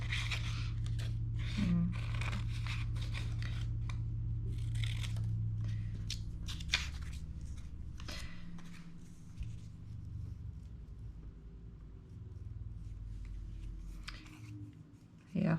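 Scissors cutting faux postage stamps made of paper, trimmed closely around each printed image, giving a run of repeated crisp snips and scraping paper rustles at close range with a steady low background hum, no talking.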